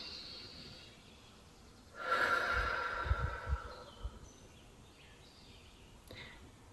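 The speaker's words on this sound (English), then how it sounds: "Take a deep breath with me now." One slow, deep breath drawn in and let out near the microphone, a soft airy rush lasting about two seconds in an otherwise quiet room.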